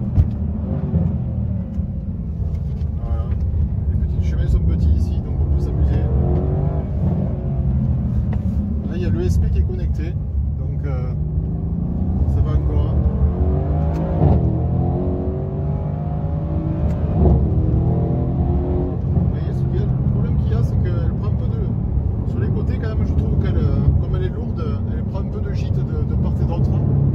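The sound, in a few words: Mercedes-AMG C63S coupe engine accelerating on small roads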